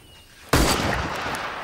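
A single sharp shot in a shooting contest, a sudden loud crack followed by a long decaying echo that stays loud to the end, with no speech.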